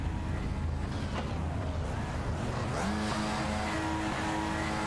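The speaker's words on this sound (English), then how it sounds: "Everybody's on the grid, the engines are revving, lights are on." Race cars idling and revving on the starting grid of a racing game at VIR, a dense engine drone with rising rev sweeps and a steady whine emerging near the end, no talk over it.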